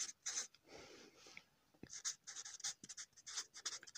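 A pen scratches out a math equation on paper, quick faint close strokes in bursts with brief pauses between.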